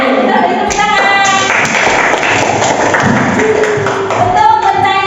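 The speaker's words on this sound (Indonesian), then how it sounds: "beri tepuk tangan" A classroom of students claps in praise after a correct answer. The hand claps come as a dense, close burst alongside chattering young voices.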